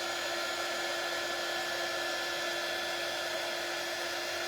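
A hair dryer blows hot air to dry wet paint on a vintage wooden shutter, giving a steady, close, continuous whirring hum with no other sounds.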